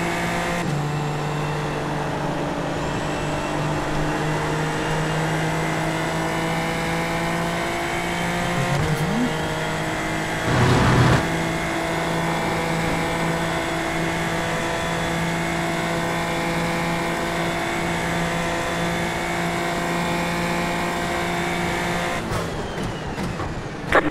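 Super Formula Lights race cars lapping Road America in iRacing, a steady high engine drone with harmonic whine that holds nearly constant, briefly shifting around a gear change midway, with no talk.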